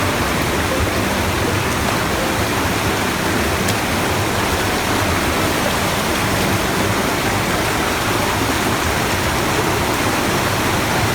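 A fast-flowing mountain river rushes during a hike on Mount Bulu Seme, a loud, dense, unbroken roar of water filling the whole clip with no voices.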